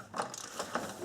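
A ratchet fitted with a socket as a long handle breaks loose strut mount bolts on a vehicle, giving a few quiet, close mechanical clicks in a short burst.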